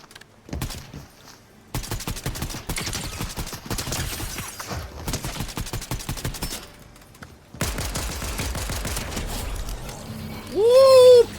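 Rapid video game gunfire rattles in dense bursts with brief pauses, capped by a heavier shotgun blast and a rising electronic tone at the end.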